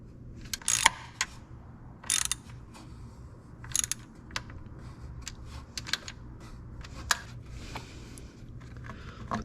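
Ratchet clicking in short bursts while hose fittings are tightened on a BMW N54 engine, sharp close clicks separated by pauses over a low background hum.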